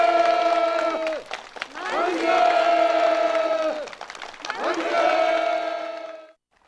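A large crowd at a mass gathering roars in unison, shouting hurrah in long sustained cheers, three swelling waves that rise, hold and break off, loud and close with some clapping mixed in.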